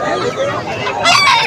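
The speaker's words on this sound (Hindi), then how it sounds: "ज़बरदस्त किस्म के मुर्गन जी।" Roosters crowing and fowl clucking at a busy bird market in Haripur, a crow rising loud near the end over a dense, continuous din of poultry.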